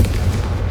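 A Confringo spell blast in the video game Hogwarts Legacy lands as a loud, deep, booming burst with a dense rumbling body, close and heavy, fading slightly at the end.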